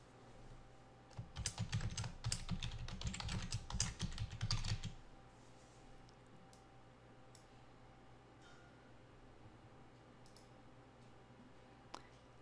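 Title being typed on a computer keyboard, a close, quick burst of clicking keystrokes lasting a few seconds, then quiet room tone with a few stray clicks.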